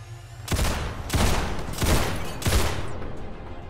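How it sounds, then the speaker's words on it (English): Gunfire in the video game People Playground aimed at a zombie: four loud, broadband bursts about a second apart, each a short rattle of rapid shots that fades before the next, with no talk. "Taste my bullets, zombie."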